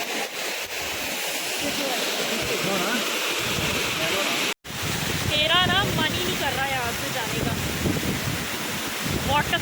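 Waterfall in the Grampians, a steady broadband rush of falling water with wind buffeting the microphone, broken by a brief dropout midway, close and continuous.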